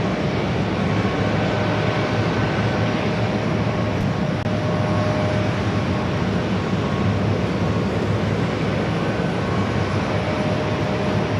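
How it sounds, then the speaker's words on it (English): An Airbus A321neo jet takes off from JFK airport, a loud, steady, broadband engine roar with a faint whine running throughout, heard from a distance with no talk. "Flight heading to Salt Lake City in this A321 Neo"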